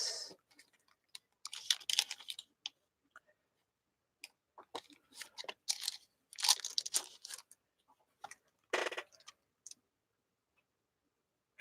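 Polymer clay being cut on a work surface, a scattered series of close, crisp ticks and short crunchy taps separated by silent pauses.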